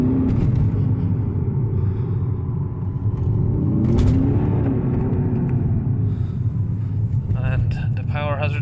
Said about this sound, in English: taking it for a test drive